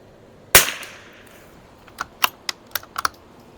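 A single rifle shot cracks out at an outdoor range, loud and close, with a long decaying tail, followed about a second and a half later by a scatter of sharp clicks and knocks, likely bolt handling.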